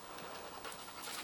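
A dog pants quickly and close, a run of soft breathy puffs with a faint rasp, alone and without talk, after being sprayed by a skunk.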